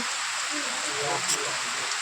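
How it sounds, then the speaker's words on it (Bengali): Heavy rain falls steadily outside, a dense, even hiss that holds at a constant level throughout with no clear individual drops. "এই দেখো প্রচুর বৃষ্টি হচ্ছে।"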